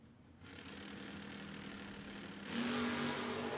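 Drag racing cars, including a BMW, revving at the start line of a no-box 660 shootout, a steady engine roar that swells louder near the end, close and without talk.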